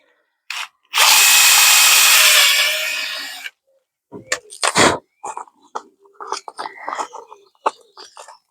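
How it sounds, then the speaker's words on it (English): A power drill boring a hole in a bike frame, heard as one loud, steady whirring burst of about two and a half seconds, followed by clanks, taps and handling noises close by. "And there's our hole drilled."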